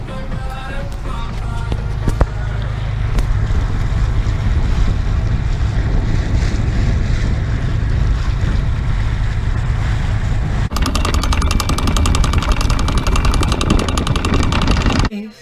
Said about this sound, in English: This is the Peel Island anchorage on the northern side if you want to get out of the southerlies